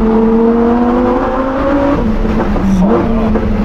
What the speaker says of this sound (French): Oh, le moteur, il est coupleux, ça pousse vraiment dans le baquet.